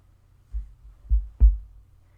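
A computer mouse clicks twice in quick succession, close and distinct against a quiet background, with a fainter click just before.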